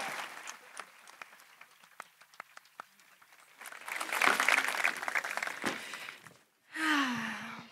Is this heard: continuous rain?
no